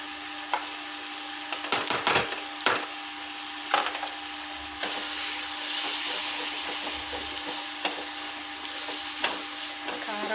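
Chili powder frying in a pan for Andhra-style gongura tomato curry, a steady soft sizzle with intermittent scraping stirs and knocks of a spoon, moderately close.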